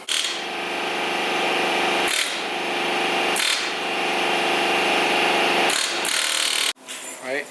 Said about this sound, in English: Just use a air hammer right here, and it should come right out.